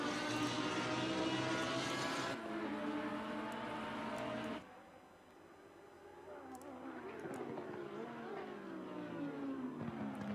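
GT3 racing cars at Monza in a racing video game roar past with high-revving engines, a loud pass that cuts to a quieter stretch of several cars accelerating and shifting, with no talking.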